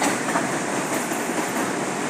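A metropolitan commuter train with two overhead-line maintenance wagons passes close by under electric wires, a loud, dense, continuous rolling rumble and rattle of wheels on track with no talk.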